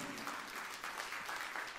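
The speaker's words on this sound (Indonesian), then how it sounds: "Tepuk tangan yang meriah untuk kemuliaan Tuhan" Applause from a church congregation during a sermon, a steady dense clatter of clapping heard throughout at moderate level with no talk.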